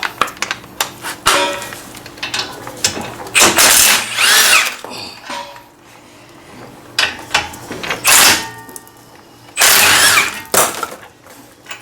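A powerful impact wrench removes front brake parts on a 2022 Kia Sorento, firing in several loud hammering bursts of one to two seconds, separated by quieter clanks of tools and metal parts.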